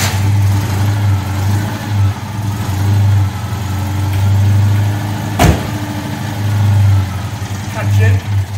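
A Citroën 2CV engine with a suspected failing clutch release bearing idles steadily with a low, loping throb, one sharp knock partway through, and voices talking faintly in the background.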